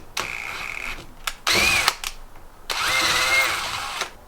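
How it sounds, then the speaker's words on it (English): A power drill whines in several short bursts, drilling out a butt connector, revving up and stopping, the last burst longer with a rising pitch. "So I have a drill bit to drill it out."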